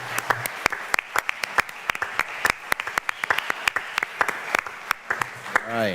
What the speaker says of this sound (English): let's give another round of applause for our round 4.